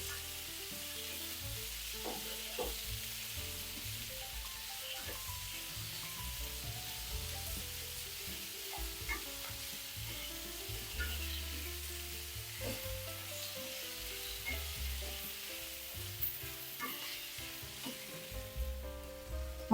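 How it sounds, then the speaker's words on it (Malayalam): Onion and tomato sautéing with ginger garlic paste in a pan for paneer peas masala, soft continuous sizzling with scattered scraping stirs, quiet and close. "ഇതിനകത്തോട്ട് 1 table spoon ginger garlic paste, ഇതെല്ലാം കൂടെ നല്ലതുപോലെ മിക്സ് ചെയ്ത് ഒന്ന് വഴറ്റിയെടുക്കേ"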